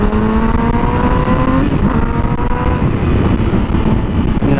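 A Yamaha R6 sport motorcycle engine revs hard and continuously, its pitch climbing and falling in loud, sustained sweeps with a rich, high-revving howl and no speech over it.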